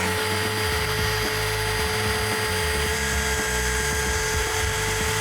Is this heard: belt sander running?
yes